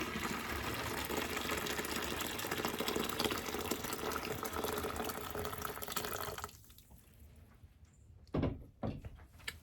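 Boiling water pours in a steady, rushing stream for about six seconds during pink dye making from crushed bugs, then stops, leaving a few clinks and knocks of containers.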